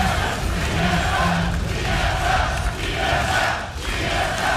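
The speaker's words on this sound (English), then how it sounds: "You can hear the crowd." Dense, loud arena crowd roaring and cheering continuously during a 2014 NA LCS Summer League of Legends esports match between Team Solo Mid and Complexity.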